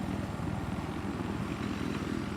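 A helicopter in the video game Battlefield 4, on the Paracel Storm map, gives a steady, loud rotor chop and engine drone that holds unbroken throughout the short stretch.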